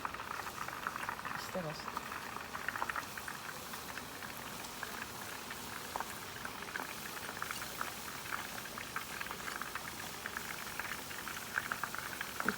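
Onions fry in oil in a small fryer, a continuous bubbling crackle that stays faint and steady throughout. Someone speaks quietly over it.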